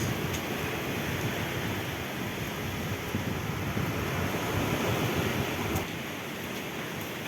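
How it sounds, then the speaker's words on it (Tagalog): Steady roaring surf and gusting wind from Typhoon Aghon at Real, Quezon blend into a constant, dense wash of noise, loud and unbroken, with no voices. "ang kalakasan ng dagat hindi tayo makapag-fishing ngayon talagang sobrang lakas"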